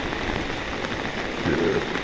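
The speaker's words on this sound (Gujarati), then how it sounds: "હજી વરસાદ તો બંધ થવાનું નામ લેતો જ નથી" Heavy monsoon rain pouring down and drumming on surfaces nearby, a dense continuous hiss with a brief low hum rising near the end.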